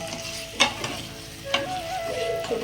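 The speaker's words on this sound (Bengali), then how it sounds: "তো এখন আমি ভালো করে কষিয়ে নিচ্ছি" Fried potatoes sautéed with spice masala in a pan: close spoon scrapes and clatters at irregular intervals over a constant low sizzle, with faint tonal kitchen noise in the background and no talking.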